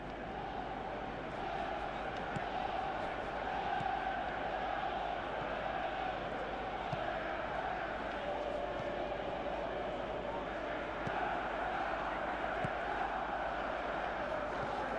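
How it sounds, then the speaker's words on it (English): A video-game football match with a steady stadium crowd roaring and murmuring throughout, loud and continuous, with broadcast-style commentary running over it. "Crowd appreciates good football all round there."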